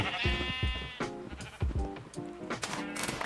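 Sheep bleating in the Minecraft video game: several short nasal bleats, repeated in quick succession, close and clear, with no talking.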